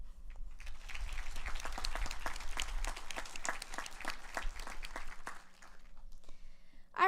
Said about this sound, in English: join me in giving a round of applause to the family, friends, and staff